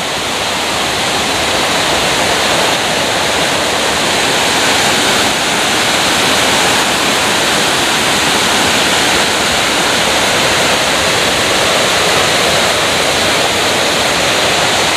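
A hill river rushes in a dense, steady roar of flowing water, loud and close, with no breaks throughout.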